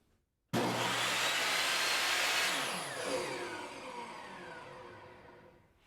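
A Skil TS6307-00 job site table saw's universal motor switches on suddenly and whines up to a loud, high running speed, holding there for a few seconds before the pitch starts to drop as it slows.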